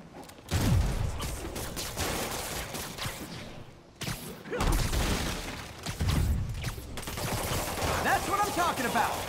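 Gunfire in Marvel's Spider-Man Remastered, bursts of rapid automatic shots and impacts in chaotic waves with short lulls, mixed with shouted voices.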